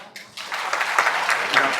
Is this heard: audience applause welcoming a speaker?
yes